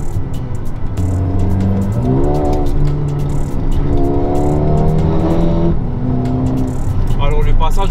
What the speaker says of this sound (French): le passage aux palettes, magnifique, la boîte de vitesse très réactive